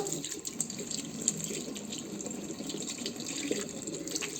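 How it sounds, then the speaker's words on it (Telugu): A bathroom tap runs steadily as a face is washed, producing a continuous close splashing rush of water with small drips, no talking. "ఇప్పుడు నేనైతే వాష్ చేసుకుంటున్నాను"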